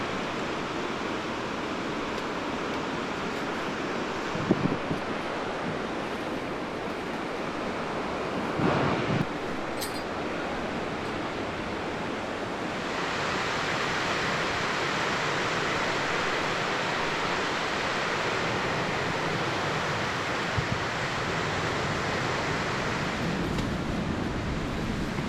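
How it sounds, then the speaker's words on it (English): Steady wind gusts at a coastal campsite roar as a constant, rushing broadband noise, with surf-like swells and a few faint knocks. The noise runs for about 25 seconds and gets a little stronger partway through, with no talking. "It's a little bit breezy"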